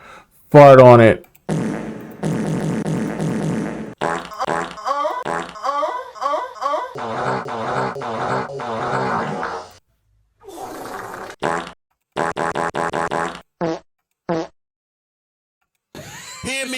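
A person blows long, sputtering mouth-fart noises in repeated bursts of varying length, loud and close, with grunts, laughter and gaps of silence between them.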